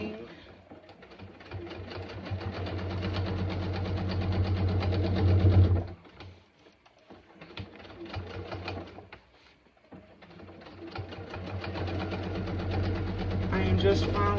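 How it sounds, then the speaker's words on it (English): Sewing machine stitching the lining of a backpack, its steady mechanical whir running in long continuous bursts with two brief pauses, close and fairly loud. "Alright, we are stitching our lining."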